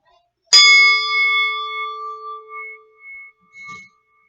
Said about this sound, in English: I'm going to ring the bell one more time